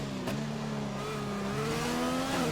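Race car engine in a racing game at the Australian GP, a loud high-revving whine that holds steady, briefly shifts pitch, then climbs again under acceleration, close and alone with no talk.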